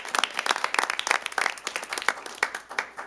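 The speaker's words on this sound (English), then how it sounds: "One more big round of applause if we could." Applause at a city council meeting: a small room of people clapping in an irregular, moderately loud burst that keeps going for a few seconds.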